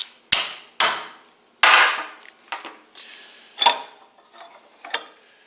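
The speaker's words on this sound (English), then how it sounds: "We'll hold it on here like this, strike it sharply a couple of times." A hammer strikes a grease fitting clearing tool sharply several times, giving loud metallic clanks at uneven intervals, each ringing briefly, with lighter taps in between.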